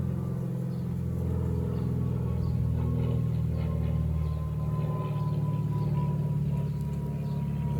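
Honey bees buzz around an open hive in spring during queen raising, a continuous low, humming drone that holds steady and close throughout, with no talking.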